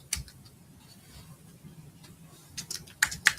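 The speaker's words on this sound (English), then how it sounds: "It seems to kick out whenever I hit my keyboard. I was trying to type something in." Soft scattered clicks of a computer keyboard being typed on, faint and irregular, building to a few louder keystrokes near the end.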